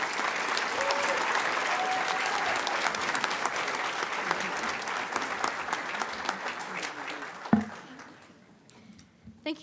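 A large crowd applauds a commencement speaker at a summer 2023 graduation ceremony, with loud, dense, sustained clapping that thins out and fades near the end, leaving scattered claps.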